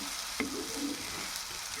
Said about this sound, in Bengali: সিদ্ধ হওয়া পর্যন্ত ভাজা করে নেব